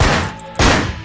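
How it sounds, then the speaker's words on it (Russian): Gunfire in the stealth video game Manhunt, in a cemetery level: two loud, close shots, with a second harsh burst landing about halfway through, and no talking. "Два выстрела."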